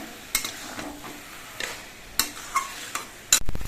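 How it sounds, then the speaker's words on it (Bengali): Shrimp cooking in a pan of spiced gravy, with a soft steady sizzle and occasional sharp clinks and taps of a stirring utensil against the pan, close up and without talk. "এর মধ্যে চিংড়ি মাছগুলো দিচ্ছে চিংড়ি মাছ দেওয়ার পরও আরও কিছুক্ষণ রান্না করতে হবে"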